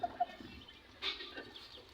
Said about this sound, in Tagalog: Masipag naman magtuka yung mga manok na to.